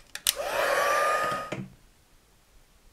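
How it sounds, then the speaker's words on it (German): A heat gun or hair dryer blows hot air onto embossing powder on a paper greeting card. It gives one loud, steady whirring rush for about a second, close up, then cuts off into quiet. "Das werde ich jetzt kurz mal heiß föhnen und dann habt ihr gleich das Ergebnis von dem Embossing."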